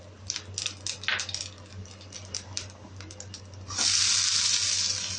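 Mustard seeds and cumin hit hot oil in a pan, breaking into a loud, steady sizzle after a run of small scattered pops and clicks, close and with no talk.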